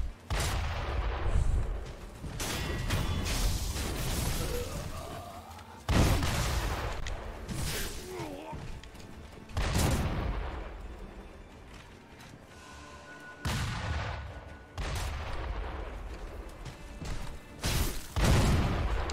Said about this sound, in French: Ah putain, il y a un canon.